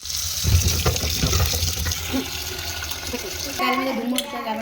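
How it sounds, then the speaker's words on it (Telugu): Raw tamarind pods rinsed under a running kitchen tap, with a steady stream of water splashing into a sink and brief handling noises, close and moderately loud throughout. "చింతకాయల్ని వాష్ చేసుకుందాము"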